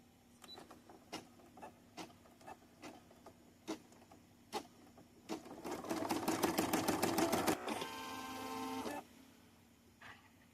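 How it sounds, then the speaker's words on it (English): An embroidery machine stitches a corner bookmark in the hoop, with evenly spaced mechanical ticks and thumps that build into a fast, dense burst of rapid stitching, followed by a steady whirring run and then a few more ticks. "I'm just going to let it stitch how it goes."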